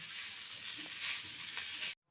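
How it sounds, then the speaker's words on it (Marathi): Onions roast on a griddle with a soft, steady sizzle and occasional light stirring scrapes, then cut off abruptly into silence. "व्यवस्थित कांदे भाजून घ्यायचे आहे तव्यावरती"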